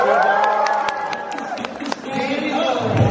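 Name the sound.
loud applause with cheering at wedding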